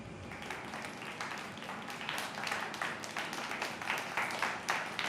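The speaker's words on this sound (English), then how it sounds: "There's the round of applause there." A round of applause plays as a sound effect during a live planespotting stream at Perth, a steady wash of many hands clapping at moderate volume for several seconds.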